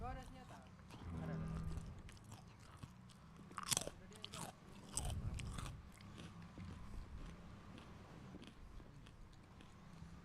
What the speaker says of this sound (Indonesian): Dikulum, dikunyah.